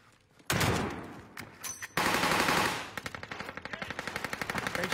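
Video game gunfire bursts in suddenly, then a sustained automatic rattle gives way to a rapid, evenly spaced string of shots that grow steadily louder, loud and close with no speech.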